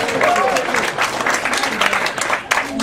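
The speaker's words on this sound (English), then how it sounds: "give yourselves a round of applause" Audience at a weight loss and detox seminar breaking into a round of applause, steady dense clapping with some voices and cheering mixed in.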